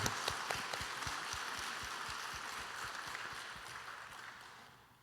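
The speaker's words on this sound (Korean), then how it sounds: "축복하며 박수하시겠습니다" A church congregation at a Sunday worship service claps together in a steady rhythmic beat, the sharp repeated claps carrying over a broad applause wash before fading out at the close.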